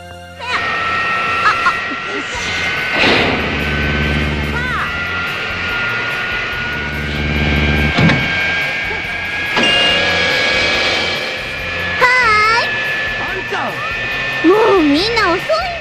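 A spaceship in the Dragon Ball GT anime powers up and lifts off, a sustained rising mechanical whine and rumble with sharp beeping tones, partly under dialogue and music.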